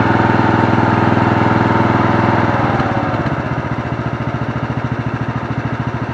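Murray 17.5hp riding mower, model 425001X8 with a 42-inch deck, its engine loud and close as it drops from a fast steady drone to a slower, lumpy, pulsing idle partway through, no talking.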